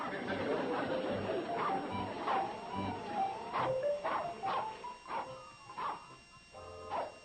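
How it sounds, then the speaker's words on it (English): A hound dog barks repeatedly in rhythmic, yelping bursts at mid distance while circling a tree, with faint background chatter. "The dog will keep barking and circling the tree while Bobby Joe goes around this way."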